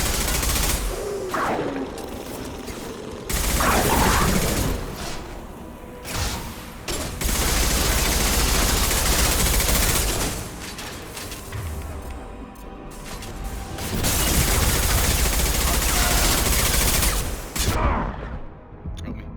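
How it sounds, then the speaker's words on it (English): Shotgun blasts in Mass Effect 2 amid a dense, continuous firefight, with loud bursts of gunfire and crashing impacts repeating through the scene, the din swelling and easing in waves. "Shotgun."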